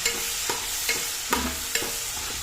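Dried red chillies fry in hot oil for a sardine pickle, giving a constant sizzle broken by regular scraping strokes of a spoon stirring the pan, with no voices.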